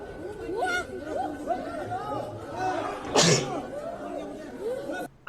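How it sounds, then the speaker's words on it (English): A single loud sneeze bursts out partway through, set against steady chatter and babble from several people talking nearby. "I did not see that sneeze coming."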